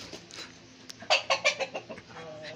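A hen clucks in a rapid, loud series of agitated calls after a rabbit startles her, preceded by quieter farmyard background noise.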